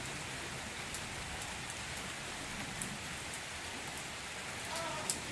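Light, easing rain falls steadily on waterlogged ground and puddles, forming a soft, even hiss with occasional distinct drop ticks, heard faintly and alone.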